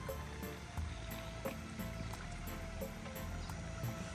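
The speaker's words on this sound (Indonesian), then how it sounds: "Di sini juga terdapat air mengalir dari mata air pegunungan ya, air bersih untuk mengairi kolam ikan biasanya." Steady wash of running spring water from a mountain source flowing into a fish pond on a rural garden estate, a continuous close gurgle with soft splashing and no talk.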